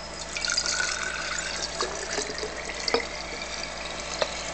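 Warm water pours steadily into a container to make buttermilk, a continuous close splashing and trickling with a few small drips and clinks.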